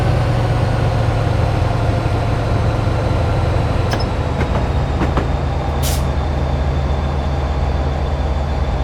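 Steady low rumble of a train running on rails during the Royal Train railtour, cruising near a 70 mph section, with a few brief clanks and one short hiss partway through over a constant roar.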